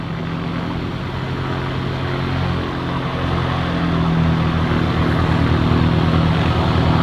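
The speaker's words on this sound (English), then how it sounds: "Piper Warrior just started up next to us." A Piper Warrior light aircraft at an airport, its piston engine and propeller idling steadily just after start-up, close by with a constant droning hum that swells slightly, with no talk.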